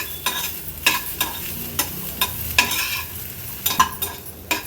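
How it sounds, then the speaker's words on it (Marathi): Dried baby shrimp (karandi), washed and patted dry, roast in a pan over a high flame, with a steady dry sizzle and regular scraping of a spatula stirring them, close and loud, no voices. "आता ही धुवून पुसलेली कर्दी आपण ॲड करूया आणि सुरुवातीला एक दोन मिनिटासाठी हाय फ्लेमवर ह्याला आपण भाजणार आहोत"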